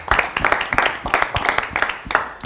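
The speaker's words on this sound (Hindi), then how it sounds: "मेरी पूरी टीम के लिए एक मरतबा फिर तालियां" A studio audience claps during a televised cricket T20 World Cup special show, with sharp, uneven claps from a modest crowd filling the short stretch at steady loudness.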